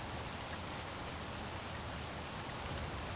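Rain in Space Engineers, a constant low hiss of falling drops with a few faint ticks, quiet and unbroken, with no one talking.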